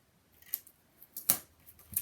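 A few quick scissor snips trim excess paper from the edge of a scrapbook page layout, three distinct crisp cuts spaced apart with the loudest in the middle, close and alone.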